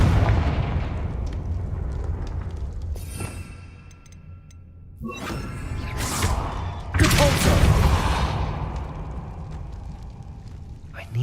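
The Confringo explosive spell blasts in Hogwarts Legacy, heard as a couple of booming, crackling explosions with rumbling tails amid game sound effects and low background noise.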